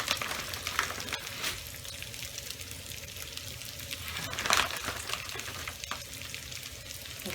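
Bacon and minced onion brown in a hot pan with a steady close sizzle and crackle, interrupted by occasional scrapes and stirring bumps as the food is moved around.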